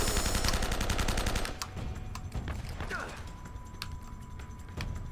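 Rapid gunfire from the video game Uncharted: Drake's Fortune during a church fight, a dense burst of loud shots at first, then scattered single reports and game effects trailing off.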